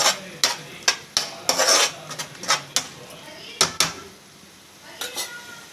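A metal spoon stirs chili powder and spices into sherwa in a cooking pot, sharp scraping clinks in an uneven rhythm, close up, with a light sizzle beneath and quiet talking nearby.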